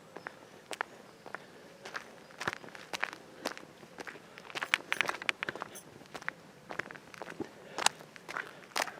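Steady footsteps crunch on a rough surface outdoors while walking uphill, an even walking rhythm, fairly close, with scattered crackles and faint ambient noise.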